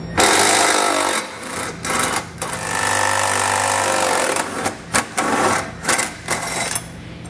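A socket wrench removing 17mm head bolts from the frame of a 2014 Toyota Highlander: loud, close mechanical ratcheting and rattling in bursts, with brief pauses between runs.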